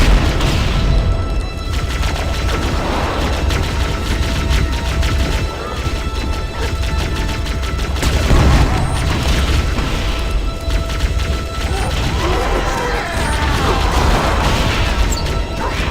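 Chained explosions in Halo: Combat Evolved on PC, a dense, continuous barrage of booms and crashing bursts layered over busy game noise, loud and sustained with several heavier blasts rising out of the din.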